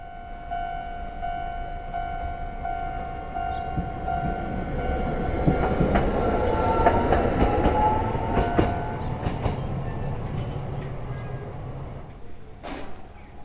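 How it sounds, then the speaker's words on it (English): A tram passes along a Tokyo street in Itabashi. A steady rumble builds and then fades with rail clatter. A sustained tone sounds early on, and a sharp click comes near the end. No one speaks. "at least we caught the tram"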